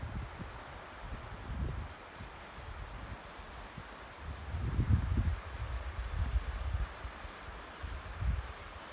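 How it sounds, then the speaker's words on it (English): Steady rushing water from the River Tay and a nearby burn at sunrise on a cloudy day, a broad continuous wash with low gusty rumbles that swell and fade, no voices. "The noise you can hear in the background is not just the River Tay"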